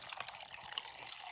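Liquid poured over ice in a glass, a steady bright splashing and trickling with a few small clinks, close and fairly quiet throughout.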